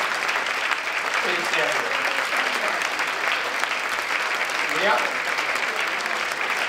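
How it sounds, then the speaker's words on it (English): Sustained applause from a standing audience filling a room at a memorial breakfast, steady and dense throughout, with a speaker's voice briefly heard over it. "You deserve our applause."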